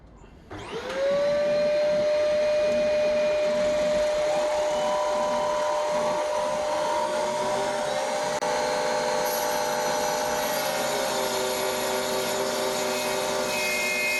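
A mini table saw on a 24 W supply turned to maximum cuts thick acrylic board treated with lubricant. A high, steady whine rises after a short start and holds loud and even with slight shifts in pitch.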